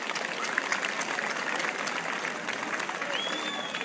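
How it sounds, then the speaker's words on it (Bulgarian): Audience applause rings out at a summer cultural festival in Malko Tarnovo, a thick, even wash of many hands clapping that carries on steadily, with a few voices and a faint high tone near the end. "Аплодисменти!"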